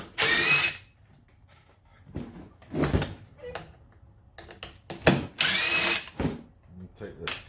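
A power driver fitted with a Torx T27 bit whirs in several short bursts while unscrewing the housing of a Stihl BG56c handheld blower that leaks fuel from its muffler, with small clicks and handling noises between the runs.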